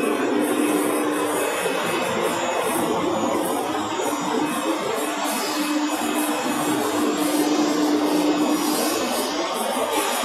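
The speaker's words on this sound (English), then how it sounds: "So firstly, to check the pumping system. Click the blower." The blower on a manual zinc plating line runs as a steady, broadband whirring hum, fairly loud and continuous, with a faint tonal whine riding on it.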